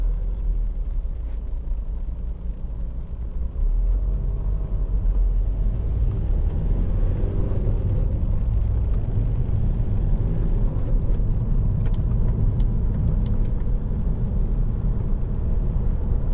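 A Volvo V50 2.0 diesel estate's engine and tyre roar hum steadily at moderate volume as it drives through corners, with continuous low road rumble and no talking.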